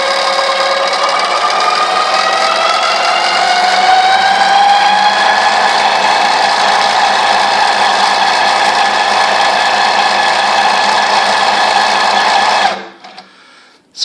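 An EQ20 sewing machine runs steadily for about thirteen seconds, sewing manually without a stitch regulator, a loud close continuous motor whir with rising pitch that cuts off abruptly near the end.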